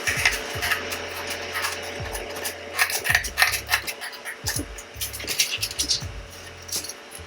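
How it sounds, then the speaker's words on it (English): Scissors cut a small slit in a piece of cardboard, giving a series of short, close scraping snips in irregular bursts with brief pauses and no voices. "I'm just going to cut a small slit in the middle of it here"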